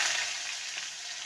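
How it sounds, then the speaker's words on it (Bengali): Chopped medium-size onion sizzles steadily in hot oil over tempered spices in a pan, an even, close, continuous hiss with no talking. "পেঁয়াজটাকে হালকা ভেজে নেব"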